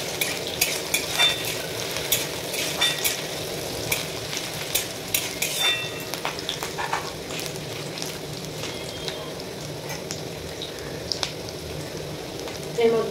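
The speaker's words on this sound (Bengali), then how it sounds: "এই তেলটা পেঁয়াজ কাটা দিয়ে দিলাম। এর মধ্যে লঙ্কা কুচি, কাঁচা লঙ্কা কুচি, এটাকে ভালোভাবে নেড়ে চেড়ে নেবো।" Chopped onion and green chilies frying in oil with ginger and garlic, a steady close sizzle with repeated stirring scrapes and clinks of a spatula in the pan, no voices.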